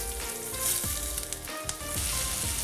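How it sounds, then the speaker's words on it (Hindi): Onions dropped into hot oil for Hyderabadi chicken dum biryani, frying with a steady, close sizzle and a few stirring bursts, no talk. "ऑयल गर्म हो गया, इसमें ऐड कर देंगे अनियन।"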